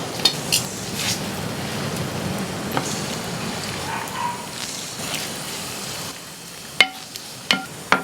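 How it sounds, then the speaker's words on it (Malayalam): A Kerala-style beef fry mixture is stirred in a pot with a steady, moderately close scraping and shuffling texture. A few sharp clinks of utensil against metal ring out near the end. "ഇനി ഒന്ന് കുഴച്ചേ."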